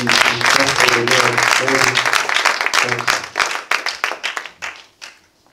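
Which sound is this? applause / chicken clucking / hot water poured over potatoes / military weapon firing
applause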